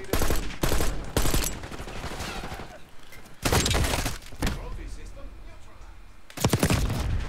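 Rapid bursts of automatic gunfire in Call of Duty: Black Ops 6 multiplayer, loud and close, several clustered volleys with short gaps between them, plus thuds and game effects while a player talks intermittently.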